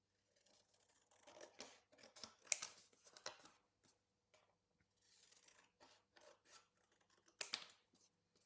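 Scissors snip through paper in scattered short bursts, a few crisp cuts and rustles separated by pauses, close and fairly quiet with no talking.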